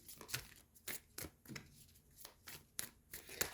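Crisp, papery tarot card shuffling with repeated riffles and snaps at an irregular rhythm, close and fairly quiet, with no talking.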